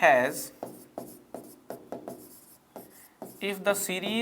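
Marker or chalk writing on a board during a maths lesson on series: short, repeated scratchy strokes in a steady rhythm, with someone talking at the start and end.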